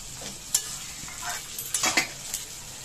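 Boiled mutton for a Bengali mutton curry is stirred in a kadai wok, the spatula scraping in irregular strokes over a steady sizzle, with a few sharp metal clinks.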